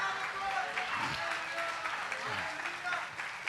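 A church congregation applauds during a sermon, a steady wash of clapping from the crowd heard under a preacher's voice.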